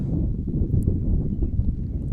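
Steady wind blowing outdoors, a low continuous rumble with gusty buffeting against the microphone, constant and fairly loud with no speech.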